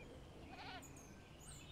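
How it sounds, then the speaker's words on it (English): Goats in the Jurassic World Evolution video game let out a faint, brief bleat or two, quiet and somewhat distant against a low background hum. "These goats are just running around waiting to be eaten."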